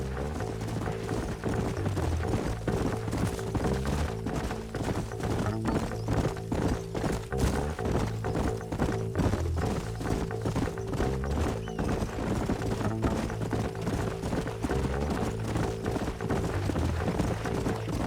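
Horses gallop in the Red Dead Redemption western game, a steady, close clip-clop of hooves running the whole way with occasional whinnies over a dense, tonal backdrop.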